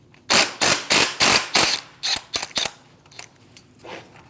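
A hand ratchet works on a 10mm intercooler bolt on a 2016-2025 Chevrolet Malibu 1.5L, heard up close as a run of five even clicking strokes followed by quicker, irregular ratcheting and a few fainter clicks.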